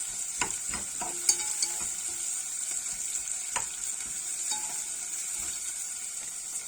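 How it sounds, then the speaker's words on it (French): Onions softening gently in a pan for a red pesto meant for grilled food, giving a low steady sizzle with scattered clicks and stirring scrapes, close by, no voices. "Là, on va faire revenir nos oignons tranquillement."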